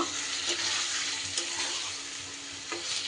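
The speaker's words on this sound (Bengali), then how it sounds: "লাউটা দিয়ে একটু নাড়িয়ে চাড়িয়ে মশলার সাথে মিশিয়ে নেব।" Bottle gourd, steamed beforehand, being stirred into fried spices in a pan: a steady sizzle with a few scraping stir strokes, close and fairly loud, no talking.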